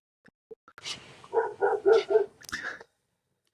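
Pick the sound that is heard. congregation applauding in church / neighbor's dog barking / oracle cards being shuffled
neighbor's dog barking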